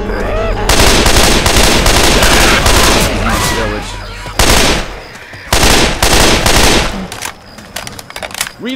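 Rapid automatic gunfire in Left 4 Dead 2 during the Swamp Fever Shanty Town campaign, loud sustained bursts broken by short pauses and a few separate volleys near the end.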